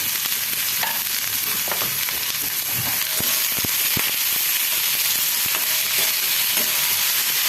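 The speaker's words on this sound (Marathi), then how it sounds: "एक चमचा तूप घालून त्याच्यामध्ये प्रथमतः कांदा परतून घ्यायचा आहे आणि टोमॅटो त्याच्याबरोबरच परतून घ्यायचं" Onion and tomato sautéing in a spoonful of ghee over low flame, a steady close sizzle and hiss with occasional stirring scrapes and clicks throughout, no voices.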